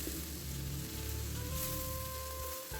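Spiced chicken cooking in a pan gives a steady, soft, close sizzle with a faint crackle that runs unbroken and without talk.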